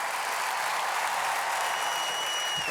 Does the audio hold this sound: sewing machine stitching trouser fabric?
no